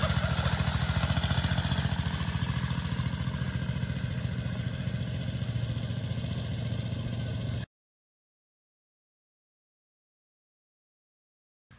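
A motorcycle ridden on dirt gives a steady, close engine roar with rough clatter for about seven and a half seconds, then cuts off into silence.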